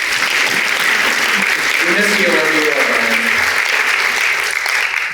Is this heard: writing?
no